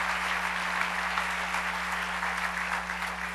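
A church congregation applauds in sustained, dense clapping that fills the room evenly for the whole stretch, with a steady low hum beneath it.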